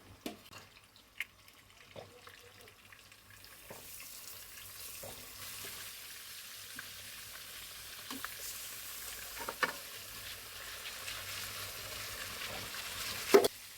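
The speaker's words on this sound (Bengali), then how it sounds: "এভাবে আমি মাছটা 5 মিনিট ভেজে নিব।" Pieces of rohu fish fry in hot oil, a soft sizzle that grows fuller and louder over time, with scattered light taps and clicks of a utensil in the pan.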